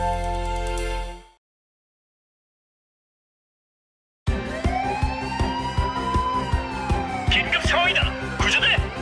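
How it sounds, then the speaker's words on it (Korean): After a short burst of music and a silence, a fire engine siren wails with rising and falling tones over a busy, rhythmic musical backing in a children's cartoon song. "빨간 소방차가 출동합니다."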